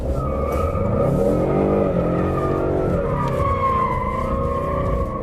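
Tires squeal and howl continuously as a Ford Mustang EcoBoost engine revs hard with traction control off, the pitch rising and falling during a long, loud rear-wheel wheelspin.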